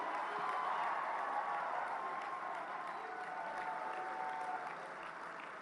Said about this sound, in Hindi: एक बार जोरदार तालियां माननीय प्रधानमंत्री जी